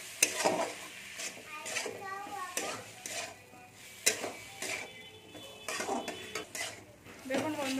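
Spiced fish curry with chili and coriander powder being stirred in a pan, repeated scraping strokes and metal clinks of the spoon over a light sizzle, with faint voice sounds in the background.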